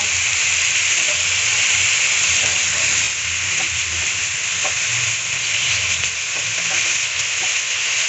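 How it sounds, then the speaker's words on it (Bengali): Thin slices of chicken for a burger fry over medium heat in a pan, giving a steady, loud, close sizzle with continuous bright hiss and no talk. "চুলার আঁচটা মিডিয়াম আঁচে রেখে এটাকে ভেজে নেব"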